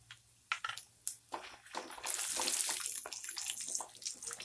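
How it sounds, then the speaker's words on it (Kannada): Cashews frying in hot oil with mustard seeds, cumin and chana dal in a pan: a sudden loud hiss and crackling sizzle after a few scattered pops, continuing steadily, close by with no talk. "ಫ್ರೈ ಮಾಡ್ಕೊತಾ ಇದ್ದೀನಿ ನಾನು."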